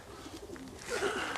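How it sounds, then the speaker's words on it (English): Homing pigeons cooing: a soft, low coo rises faintly near the end, close but quiet, over a muted background with no speech. "The loyal pigeons."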